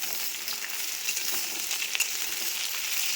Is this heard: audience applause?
no